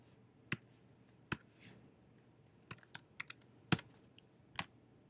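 Keys on a computer keyboard are tapped one at a time while a password is entered, giving isolated sharp clicks with a short quick cluster in the middle, close and clear in a quiet room with no talk.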